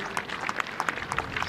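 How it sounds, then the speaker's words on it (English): Scattered applause from a cricket crowd greeting news of a Somerset women's win at a Somerset vs Essex match, a light patter of individual claps sounding fairly distant. "Applause for the Somerset women as the crowd hears that they've won."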